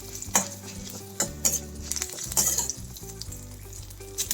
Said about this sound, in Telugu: పోపులు, తాలింపు అన్నీ ఇలాగే వేయించుకోవాలి.